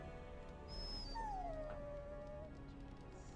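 A dog in the video game Dragon Age: Origins gives a single drawn-out whimpering whine that slides downward, faint and alone over a low ambient background.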